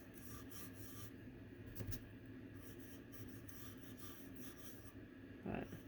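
A paintbrush scrubs and rasps steadily across a surface while a chippy finish is painted in between sections, the dry brushing continuous and close with a brief louder scrape near the end.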